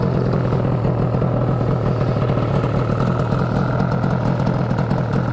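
An old two-cylinder motorcycle with left and right exhausts idles close by, a steady loud chugging throb with a fast even pulse and mechanical clatter, no talking.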